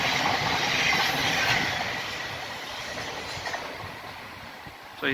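A train rolls past close by, with a loud, steady roar of rail noise, wheel squeal and clickety-clack that eases slightly toward the end. Nobody talks.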